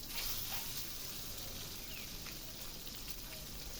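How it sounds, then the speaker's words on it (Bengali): Eggs frying in oil with cumin seeds for an egg curry, a faint, steady sizzle and crackle with soft scattered pops, no talk. "তো এই যে প্রথমে তেল দিয়ে জিরা সম্বর দিয়ে ডিমগুলো ভেজে নিচ্ছি।"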